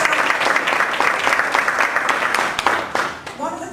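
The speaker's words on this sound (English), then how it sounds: "Round of applause for Sherry." A seminar audience gives a round of applause for a presenter: dense, steady crowd clapping that holds for several seconds, then thins and fades as a voice begins to speak at the end.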